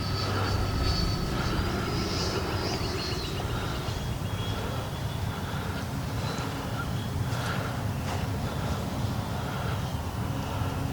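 An E-flite Viper 90mm RC jet flies with a steady, continuous electric ducted-fan whoosh and whine that holds at an even loudness throughout, without any talk over it.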